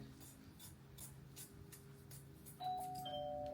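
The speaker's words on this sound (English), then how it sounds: "And my doorbell would ring now" A doorbell chimes near the end, ringing out over a steady low hum and some faint rustling.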